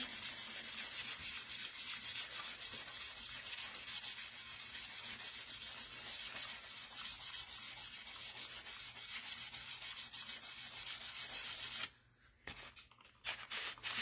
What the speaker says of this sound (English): It's just their sandpaper, foam on one side, light fan.